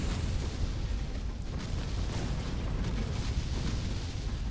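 Explosions of an enemy unit hit by high-explosive rounds in the space strategy game Ancient Space, a steady dense rumbling blast texture filling the whole stretch at moderate level with no talk.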